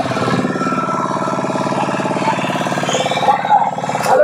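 A motor boat engine running on a river, a steady close throbbing drone that holds throughout, with faint voices and brief sounds rising near the end.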